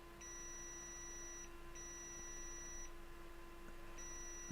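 A multimeter on its continuity setting gives thin, steady electronic beeps as the probe touches metal, three sustained tones of about a second each over a low constant hum, fairly faint.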